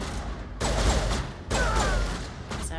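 Gunfire in the video game Mass Effect, two loud bursts of rapid weapon fire in quick succession, each sustained for about a second with ringing tails, close and alone.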